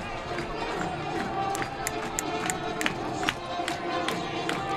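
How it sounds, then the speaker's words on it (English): A high school football crowd at the Columbus Titans vs. Baxter Springs Lions game roars in a steady wash of cheering, with scattered claps, whistles and shouts popping out sharply over the din. "the crowd is a little excited here tonight"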